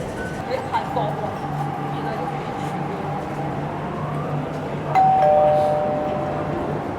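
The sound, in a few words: Hong Kong MTR metro train arriving at platform, door chime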